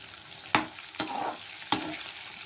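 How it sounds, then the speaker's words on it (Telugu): Cauliflower florets coated in rice flour frying in a pan, a soft steady sizzle broken by three sharp scraping stirs of a spatula, spaced about half a second to a second apart, with no talking. "కాలీఫ్లవర్ అన్నది కూడా ఇలాగ వేపుకోవాలి"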